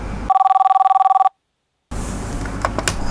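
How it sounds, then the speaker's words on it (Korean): A telephone rings during a radio-style broadcast with a rapid trilling electronic bell for about a second. Silence follows, then a louder noisy passage resumes. "이게 웬 전화지?"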